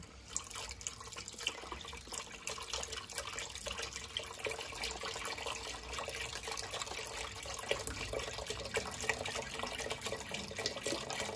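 Chicken broth made from bouillon is poured into a cooking pot, a steady faint splashing and trickling of liquid that runs continuously without talk.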